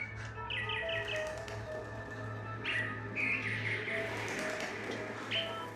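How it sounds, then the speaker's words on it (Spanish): Small birds chirp in short repeated bursts of bright tweets, fairly close and clear over a steady low hum, with no talking. "Un pájaro. No puede ser."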